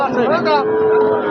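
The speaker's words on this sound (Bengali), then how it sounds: "অনেক গরু আসছে" A cow at a cattle market lets out a loud, drawn-out moo close by, its tone sliding and then holding over a busy background murmur.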